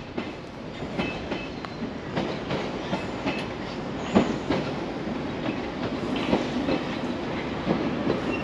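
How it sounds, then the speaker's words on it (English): A London Underground Piccadilly Line train pulls into the Cockfosters terminus, a steady rumble with clickety-clack wheel rhythm and a brief squeal midway, close and continuous throughout. "And you got a train pulling in."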